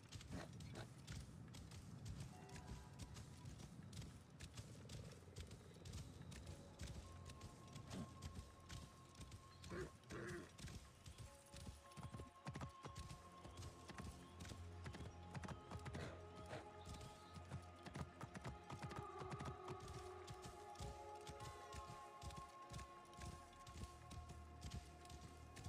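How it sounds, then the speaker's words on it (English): Donkey hooves clip-clop at a walking pace in Assassin's Creed Origins, quiet and steady under a game soundscape with music and ambient tones, with occasional voices. "That's a donkey. Sounds like one too."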